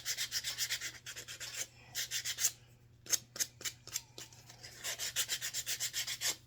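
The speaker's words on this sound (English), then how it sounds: "just go and sand the edges and get it all softened up on the edges" Wood edges softened by hand with 220 sandpaper while making a Thanksgiving turkey: quick, light, rhythmic back-and-forth rubbing strokes in bursts, close and fairly quiet, with short pauses between.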